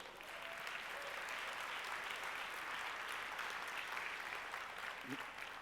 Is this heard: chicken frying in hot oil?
no